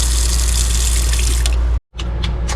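Water runs steadily from a sink faucet in a 2025 Entegra Ethos 20E motorhome, a loud close hiss that cuts off briefly near the end, then resumes in short spurts.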